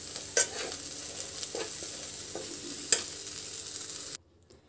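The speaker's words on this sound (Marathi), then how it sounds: "एक ते 2 मिनिट आपण आलं असंच तुपावर परतून घ्यायचं आहे" Ginger sautéing in ghee in a pan, a steady soft sizzle broken by a few spoon scrapes and two sharp clinks, cutting off abruptly to near silence at the end.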